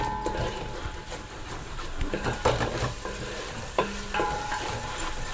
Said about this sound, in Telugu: అది కొంచెం పచ్చివాసన పోయేదాకా బాగా వేయించుకోవాలి